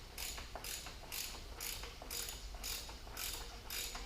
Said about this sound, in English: I'm going to go ahead and remove my filter. 32 millimeter socket